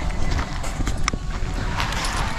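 Horses passing along a path at a Philippine resort and leisure farm, with hooves clip-clopping in a loose, uneven rhythm against steady outdoor background noise, moderately close, no one talking.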